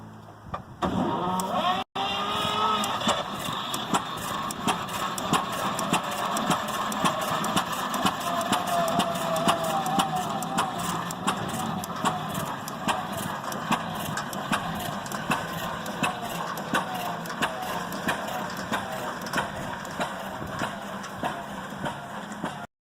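An old hit-and-miss gas engine runs steadily at a show, a continuous rapid chugging with sharp regular firing beats and mechanical clatter, fairly close and constant throughout.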